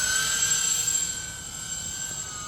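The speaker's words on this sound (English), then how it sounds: "this is an old GWS C130 that I put 4 UMX 2S motors on it with P51 4-blade props" An old GWS C130 RC model plane fitted with four UMX 2S motors and P51 four-blade props flies past, giving a steady high electric whine with a slight droning tone that eases off a little as it moves away.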